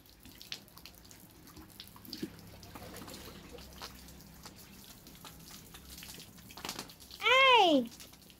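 Weak trickle of running water from a tap, faint and steady throughout, with a short voiced exclamation cutting in near the end.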